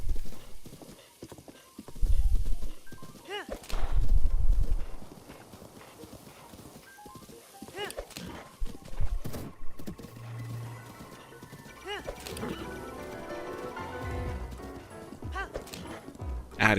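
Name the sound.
horse galloping in video game Zelda Breath of the Wild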